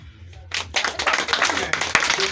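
Villagers clapping at an outdoor community mission gathering in Toulepleu, a dense burst of hands starting half a second in and continuing steadily to the end, with a faint voice beneath.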